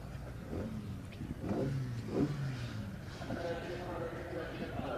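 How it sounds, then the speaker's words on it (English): MG Cup racing cars pulling out onto the circuit, engines revving and accelerating in a rough mid-pitched drone, heard beneath a commentator talking over them. "we get our Cherished Vehicle Insurance MG Cup cars heading on out"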